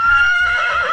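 A horse gives a loud, close whinny, a high quavering call that wavers in pitch and trails off over about a second, with no voices.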